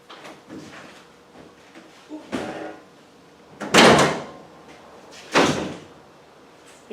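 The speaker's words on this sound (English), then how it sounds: "you can't get the bloody doors open" Car doors being opened and shut beneath a two-post lift in a workshop: a few sharp, separate thuds and clunks, the loudest two close together near the end, with quiet gaps between them.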